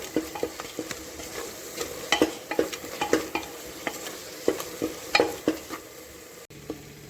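Spice masala with turmeric and asafoetida being sautéed in a pan for tomato rice, a spoon scraping and stirring in repeated sharp clicks over a soft sizzle, close and steady with no talk.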